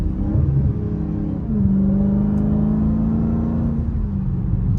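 A Dodge Hellcat engine revs and whines through a city drive, a loud continuous drone with a rising whine in the middle and a sharp pop near the end.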